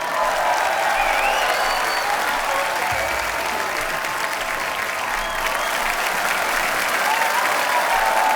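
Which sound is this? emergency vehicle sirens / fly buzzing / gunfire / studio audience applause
studio audience applause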